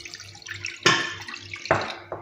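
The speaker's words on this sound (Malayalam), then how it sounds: "അതിലേക്ക് 1 കപ്പ് വെള്ളം ഒഴിച്ചു കൊടുക്കാം" One cup of water poured into a pan to make jelly for biscuit pudding, heard as a few short, close splashy pours separated by brief pauses.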